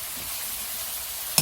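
Ground pork shoulder mixed with Spam stir-frying in a pan, a steady soft sizzle throughout with a brief sharp clink of a utensil near the end.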